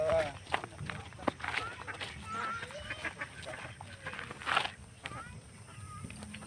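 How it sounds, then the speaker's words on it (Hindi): Ducks quacking outdoors, scattered honking calls mixed with rustling and movement, moderately close, with someone talking over much of it. "चलिए आप लोगों को बतख दिखाते हैं"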